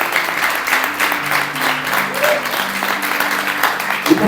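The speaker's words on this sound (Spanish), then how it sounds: "Dale un fuerte aplauso a Jesús." A church congregation applauds for Jesus during a Sunday service, a dense, continuous wash of many hands clapping at once, loud and sustained, with faint tones running underneath.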